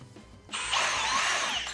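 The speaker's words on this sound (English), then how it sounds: "I'm going to put 3 screws in each piece of wood" A power drill drives a screw into wood for a king-size bed frame, starting at about half a second and whirring steadily and close for the rest of the clip, with no talk.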